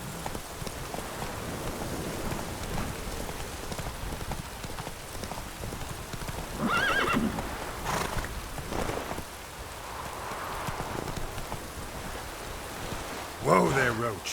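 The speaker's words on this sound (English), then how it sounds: "Whoa there, Roach" A horse ridden in The Witcher 3 video game trots with a steady clip-clop of hooves over a continuous rain-like ambience, with a brief louder burst near the end.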